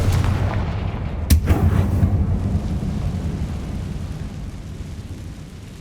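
A Confringo fire spell blasts in Hogwarts Legacy, a single sharp explosive crack near the start followed by a rolling boom and a long rumbling tail that slowly fades.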